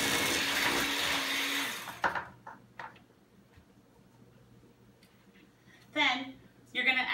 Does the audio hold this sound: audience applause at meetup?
no